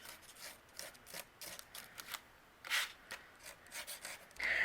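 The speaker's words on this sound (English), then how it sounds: "I'm just going to do a little scratching to give this a little bit more vintage look" Paper ephemera being scratched and scuffed for a vintage look, a series of faint, quick rasping scrapes in irregular bursts, close and soft with no talk.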